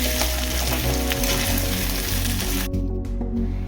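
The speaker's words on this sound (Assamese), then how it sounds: "দহ মিনিটমান ভালদৰে ভজাৰ পিছত আমাৰ ভাতকেৰেলা পুৰৰ ষ্টাফিংখিনি ৰেডি হৈ যাব।" Loud, close sizzling and crackling of bitter gourd stuffing frying in a pan, continuous with a low hum underneath, cutting out briefly near the end.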